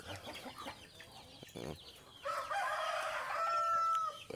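Backyard farm chickens clucking in short bursts, then a rooster crowing long and loud nearby, with scattered fowl calls around, no speech.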